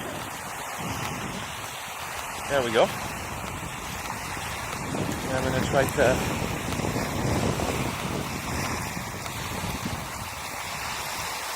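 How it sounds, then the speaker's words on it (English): Steady wind and sea wash roar close to the microphone on the coast of Norway at night, with a person talking briefly partway through. "So instead you're gonna have the sound of the sea."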